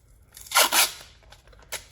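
Tape ripped off a roll while masking around a badge on a 2023 Chevrolet Silverado: one long, close tearing rip, then a brief second tear after a pause, with no talking.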